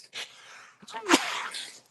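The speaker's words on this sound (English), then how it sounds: "I just sneezed." A single sharp sneeze up close, preceded by a quick breath and followed by a short exhale.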